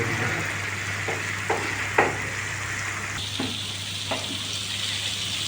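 Masala spices frying in a pan while being stirred with a spoon, a steady close sizzle under a low hum, with several light scraping taps at irregular intervals.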